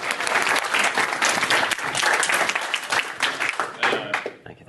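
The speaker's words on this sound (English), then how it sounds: "Applause again." Dense audience applause at a cyber crisis simulation panel, sustained clapping from a large room that fades out at the end, with some voices mixed in.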